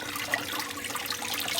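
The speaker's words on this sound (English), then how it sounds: "the water's filtering down through them and leveling out" Water trickles and flows steadily down through dish-washing sponges cut to size in a gold sluice box while prospecting at Reedy Creek, a continuous soft wash without any voices.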